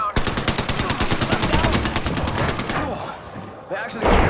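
Rapid automatic gunfire from the video game Apex rattles in a dense, loud burst of evenly spaced shots, thinning out toward the end before another blast hits.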